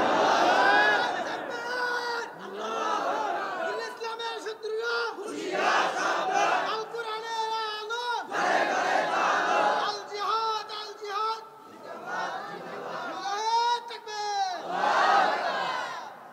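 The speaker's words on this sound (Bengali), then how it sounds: "কে কে রাজি আছো আল্লাহকে জোরে তাকবীর দিয়ে দেখায় দাও" A large crowd at a Bengali Islamic sermon gathering roars the takbir in loud, repeated collective chants, the massed voices swelling and falling in waves over about sixteen seconds.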